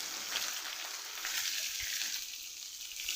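Sliced onion hits hot oil in a pan already holding mustard seeds, curry leaves and chilli, giving a steady, bright sizzle that runs unbroken from start to finish, with a couple of soft knocks from stirring.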